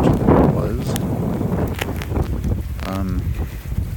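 Gusty wind buffets the microphone in low, rumbling bursts, loud and close, with faint sounds of moving floodwater and activity beneath, recorded on a road during flooding in Merritt Island, Florida.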